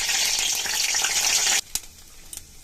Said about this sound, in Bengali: পেঁপে আর থর একসঙ্গে তেলে ছাড়বো।